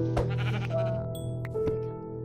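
Sheep bleating in the video game Minecraft, two or three quavering bleats in succession over a steady low background hum, close and clear.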